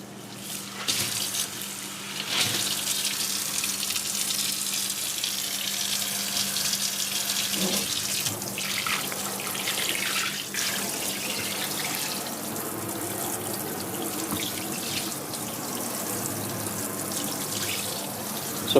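Water runs and splashes steadily into an American Standard Memphis single-bowl kitchen sink, a continuous trickling rush with a few drips and clinks, recorded up close.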